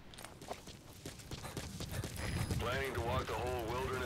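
Horse hooves clip-clop in Metal Gear Solid V: The Phantom Pain, a quick run of close hoofbeats clattering steadily while a voice talks over them.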